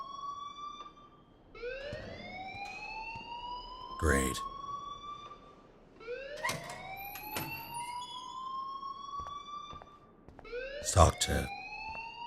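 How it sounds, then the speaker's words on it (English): Alarm ringing in the video game Life is Strange, a rising, repeating wail that sweeps upward in several long cycles at moderate volume, with a brief line of speech near the end. "please turn off that alarm since that's your job."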